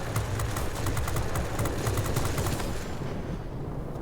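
IL-8 attack plane firing its small forward guns in World of Warplanes: a rapid, steady rattle of machine-gun fire over engine drone, fading out near the end.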